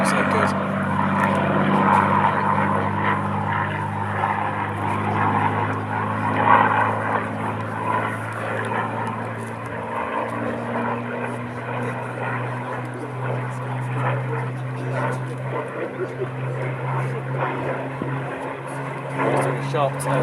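Propeller aircraft flying overhead at an air display, a continuous droning engine roar with a low throbbing tone that holds steady throughout, moderately distant with faint crowd noise.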